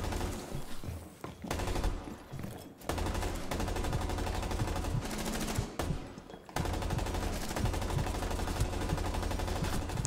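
A light machine gun fires in a video game with long, loud, rapid automatic bursts, broken by two short pauses, with overlapping shots and impact sounds.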